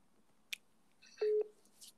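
A phone dialing out to reach someone, with a brief click followed by a short, loud electronic dial tone that sits alone against a quiet background.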